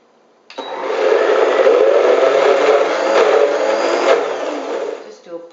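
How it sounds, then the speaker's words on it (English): A blender pulses an onion, dill and horseradish vegan cheese mixture, whirring loudly and continuously for several seconds before cutting off. "holding the blender down"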